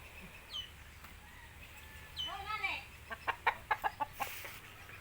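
Farm chickens cluck close by in a garden plot being prepared for vegetables, with a few short calls early on, then a quick run of rhythmic clucks toward the end over faint background noise.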